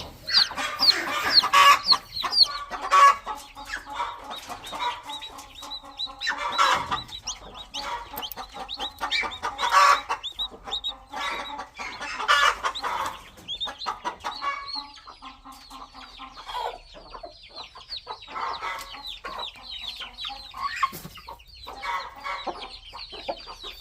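Hens cluck steadily with a brood of three newly hatched chicks on a farm, the clucking close and repeated in bursts over the full length, with occasional sharper calls and no voices heard.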